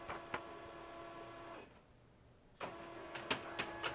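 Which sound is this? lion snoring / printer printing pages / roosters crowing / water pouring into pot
printer printing pages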